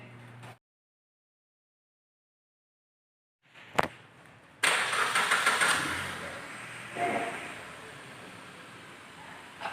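A Suzuki R3 car's engine is started during an emission test: silence, then a sharp click and a burst as it cranks and catches, settling into a rough, noisy idle with a brief swell.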